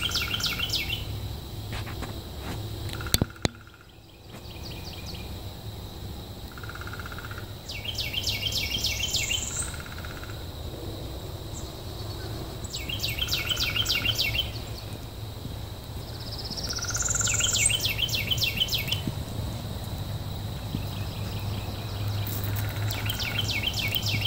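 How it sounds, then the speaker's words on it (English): Songbirds repeat bright chirping calls over a steady insect drone on a woodland nature walk, with a sharp knock near the start. The calls come in recurring bursts at moderate distance throughout. "We have a little symphony going on here with the woodpecker and the birds."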